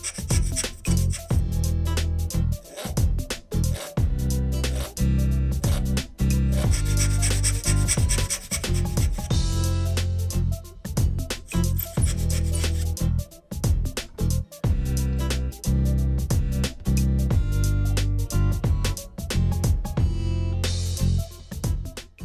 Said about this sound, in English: Start slowly until the saw naturally takes hold and wants to cut freely.